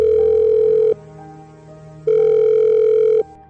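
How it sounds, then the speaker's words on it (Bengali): Mobile phone ringtone in a tense Bengali detective audio drama: a loud electronic tone rings in two bursts, each about a second long, separated by a quieter pause, with no voices. "ঠিক তখনই ফোনটা বেজে উঠল।"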